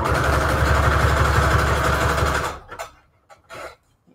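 A sewing machine running a zigzag stitch, a loud, fast steady mechanical whir with rhythmic needle clatter that stops partway, followed by a few faint handling sounds.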